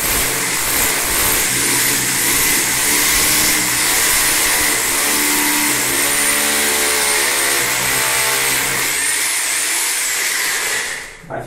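A 6 mm drill bit bores into porcelain tile during a toilet installation, a loud continuous high whine and grinding drone that holds for about ten seconds before cutting off.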